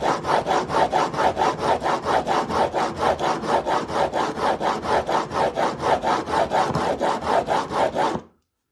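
A woodworking chisel blade rubbed back and forth on a sharpening stone, about thirty steady, even scraping strokes in a quick unbroken rhythm, close and fairly loud, with no talking, before stopping abruptly.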